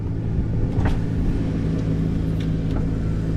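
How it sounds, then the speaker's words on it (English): The blower motor of a 2001 Dodge 1500 pickup runs as a steady low hum and rumble close by, with a faint tapping early on and no voices. "Now the blower motor's working."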